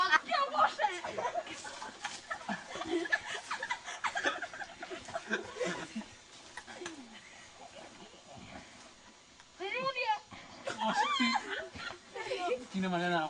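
A dog whimpers and gives short high yips at intervals, partly mixed under steady conversation and laughter from several people nearby.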